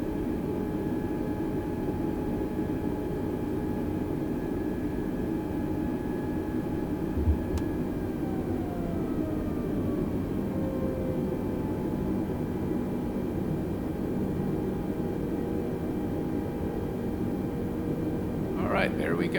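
Airbus A320 engines idling steadily at a gate in Microsoft Flight Simulator 2020, a continuous droning whine with tones that slowly drift downward as they spool, heard alone with no talk.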